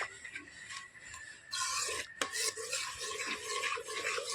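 Stirring thickening milk in a pan for homemade powdered milk, a close, quiet scraping and rasping of a spoon against the pan bottom that grows steadier and busier after a brief pause.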